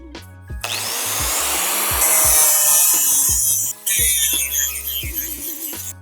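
An angle grinder fitted with a flap disc surface-grinds metal, a loud, steady abrasive hiss and whine that runs almost the whole time, with small dips as the disc touches and lifts off the work.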